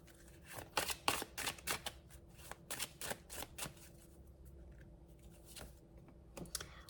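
Tarot cards are handled and drawn from a deck close by, quiet papery flicks and snapping riffles in quick bursts, then sparser soft slides.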